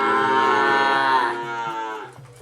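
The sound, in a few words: Sapudi Island racing cattle mooing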